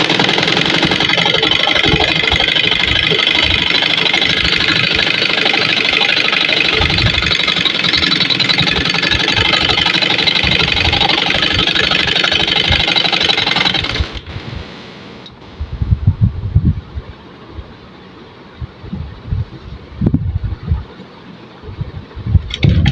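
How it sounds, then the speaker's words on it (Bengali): A sewing machine runs a straight seam on a kaftan, a steady, continuous whirring drone for about fourteen seconds before cutting off, leaving only faint scattered handling clicks and bumps. "সোজা সেলাই করে নিয়ে যাব।"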